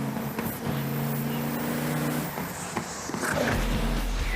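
Loud engine noise from a race car, with the engine climbing steadily in pitch and one audible break where a gear shifts. The sound then fades off into a distant roar with some low rumble, and no speech is heard.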